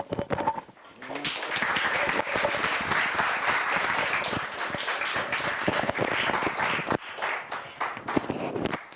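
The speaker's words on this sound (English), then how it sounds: "So are you clapping for him or for me?" An audience claps steadily at a 2015 Rhode Island Envirothon wildlife training workshop, sustained loud applause for about eight seconds after a brief pause at the start, heard close.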